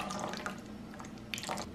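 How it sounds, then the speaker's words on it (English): A small splash of rice wine is poured into a ginger lime vinaigrette, a soft, brief trickle of liquid heard faintly and close. "just a little bit of a splash of rice wine"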